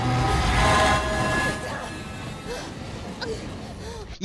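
A train in the horror game Alien Isolation rumbles past with a rolling, metallic clatter and a sustained tonal whine that fades away, ending in a sharp cut.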